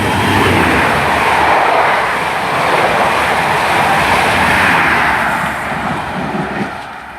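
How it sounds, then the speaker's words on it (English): An HST passenger train from Paignton to London Paddington roars through Highbridge and Burnham station without stopping, a loud sustained rumble and rush of wind that holds steady and then fades slightly at the end. "the next service to pass through is a service from Paignton to London Paddington, formed of a HST"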